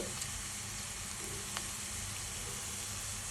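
Onions browning in hot oil with garam masala added, a steady close sizzle and crackle of frying that holds evenly throughout, with a faint scrape or two and no voices.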